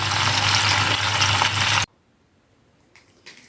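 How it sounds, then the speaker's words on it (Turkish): Butter melting in a pan with a loud steady sizzle that cuts off abruptly, followed by near silence and a couple of faint clatters. "Böyle şimdi yağ eritiyorum."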